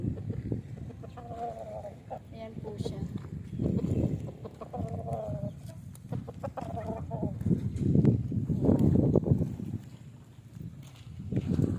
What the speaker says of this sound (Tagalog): May ganyan po palang lahi ng manok